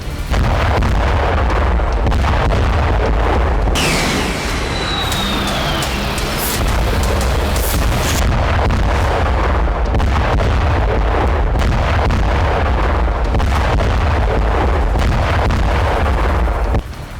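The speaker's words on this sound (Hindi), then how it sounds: "ब्लास्ट एक हथियार फैक्ट्री में हुआ" Blast at a weapons factory in Britain, heard as a loud, sustained roar of rumbling detonations and crackling bursts, with a sharp whistling streak partway through, continuing heavily to the end.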